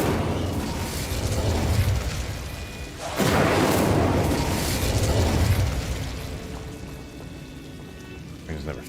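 Incendio fire spell cast in Hogwarts Legacy, loud whooshing bursts of flame with a heavy roaring surge midway that then tails off into a crackling rush.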